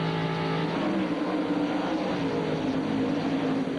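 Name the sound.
NASCAR Busch Series race cars racing at Bristol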